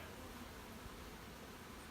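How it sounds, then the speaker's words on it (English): Honey bees hum steadily around an open hive during an inspection, a soft continuous buzz from many insects with no talk. "Just going to put some of these bees down into the box"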